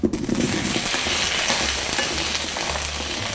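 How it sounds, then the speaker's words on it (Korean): Taro sizzles and crackles steadily in hot oil in a wok as it is stirred, loud and close, with no voices. "토란을 먼저 이렇게 볶습니다"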